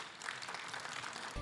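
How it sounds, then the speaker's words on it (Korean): Brief, fairly faint applause from a workshop audience thanking panelists after a college panel discussion, an even patter of many hands. "귀한 말씀 나누어 주신 패널 분들께 진심으로 감사의 박수를 부탁드리겠습니다."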